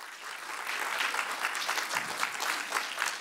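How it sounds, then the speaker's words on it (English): An audience at a real estate agents' summit breaks into warm, sustained clapping for a few seconds, many hands together filling the room. "a round of applause."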